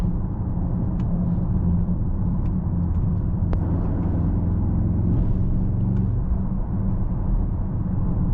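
Mercedes-AMG GLE 63 S V8 SUV cruising on country roads, a steady low engine and road rumble with faint cabin noise, continuous throughout.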